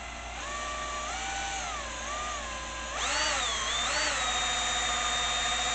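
A cordless drill in low gear spins an old DC motor, giving a steady whine that wavers in pitch, then jumps louder and higher partway through as the drill is pushed harder.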